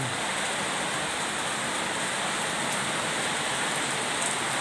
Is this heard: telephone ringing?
no